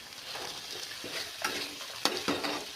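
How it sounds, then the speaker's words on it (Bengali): Spice paste fries in a pan for dhaba-style palak paneer as green peas are added, giving a steady close sizzle with stirring scrapes and a sharp clatter near the end. "এটা আমি ভালো করে ভেজে নেব মশলাটাকে। মশলাটা আমার ভাজা হয়ে গেছে। আমি এখানে একটু কড়াইশুঁটি দিয়ে দিচ্ছি।"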